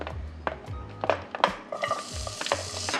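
Garlic hits hot oil in a pan and sizzles steadily, with stirring scrapes and small clinks of a utensil against the pan, close and moderately loud.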